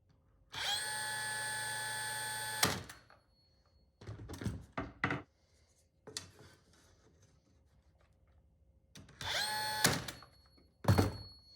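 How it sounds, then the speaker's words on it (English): A brad nailer fastens a glued wood piece for a dado cutting jig, with sharp nail shots and knocks between longer mechanical whirring bursts, close and loud against quiet gaps. "once again just using some glue and brad nails"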